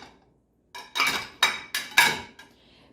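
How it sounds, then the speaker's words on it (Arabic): Plates clack and clink as they are set into the rack of a Beko dishwasher, a series of five or six sharp, close knocks spaced a fraction of a second apart, starting after a brief near-silence. "بالنسبة للصحون بنرتب الصحون بهي الطريقة"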